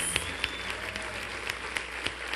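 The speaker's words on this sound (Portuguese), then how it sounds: "Você sabe ficar de pé e aplaudir ao mesmo tempo?" Applause from a standing church congregation, a steady moderate patter of many hands with a few sharper individual claps standing out, heard at a slight distance.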